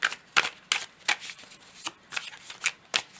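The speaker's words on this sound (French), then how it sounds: "Je vais prendre une carte du tarot de Marseille." Tarot de Marseille cards shuffled by hand in a series of crisp riffling bursts, about nine short flicks at a steady, slightly uneven pace, close and clear with no talking.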